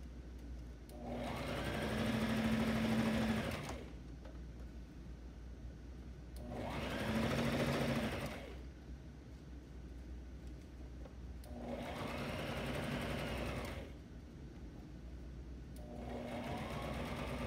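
A sewing machine stitches a 5/8 inch seam on boys' pajamas in four separate bursts of steady, close whirring, with short pauses between runs.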